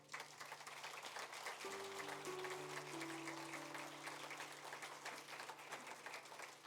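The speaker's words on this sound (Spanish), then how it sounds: "Dale un aplauso al Señor." Quiet applause from a church congregation, a dense patter of clapping throughout with a sustained tone briefly heard underneath.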